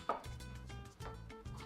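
A knife roughly cuts fresh strawberries on a cutting board, three or four crisp close chops spaced evenly apart against a quiet kitchen background, with no talking.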